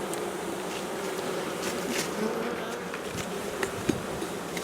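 Carpathian honeybees in an open hive make a dense, steady buzz that fills the whole stretch, with a few louder individual bees passing close by.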